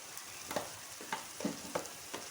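Tomato puree with frozen green chillies cooks in a pan for dhaba-style aloo gobi, giving a faint low sizzle with a few separate spoon scrapes at a steady pace, close but quiet.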